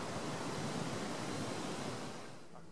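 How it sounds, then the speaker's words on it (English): Wind gusts steadily outdoors as a storm approaches, a dense, even rushing roar that holds loud and close throughout and eases slightly near the end, with no talking. "wind's picking up"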